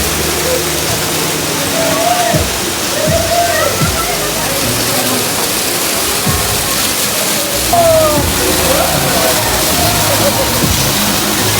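Water pours steadily from a pipe fed by a river into a resort swimming pool, a loud continuous rushing wash close by, with a voice talking faintly underneath.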